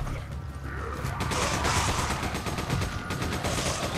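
Rapid gunfire in the Resident Evil 5 video game, a dense continuous volley of shots layered over game noise and rumble, loud and sustained throughout.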